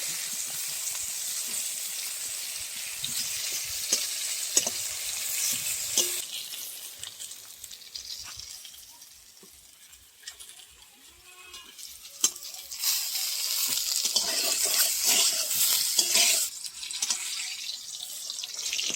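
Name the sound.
eggplant slices frying in oil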